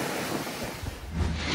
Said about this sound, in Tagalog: Malahiganteng alon at malakas na hangin din ang tumama sa Pio Duran Port sa Albay